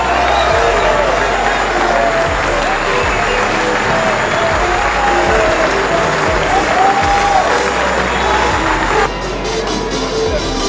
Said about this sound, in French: Merci d'applaudir les deux équipes.